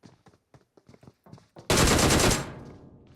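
A single loud shotgun blast in PUBG Mobile erupts suddenly after a run of faint clicks and footsteps, then rings out and decays over the next second.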